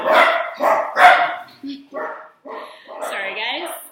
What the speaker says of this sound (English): I'm on a farm right now and there are about 17 dogs around, so you may hear them bark every now and then.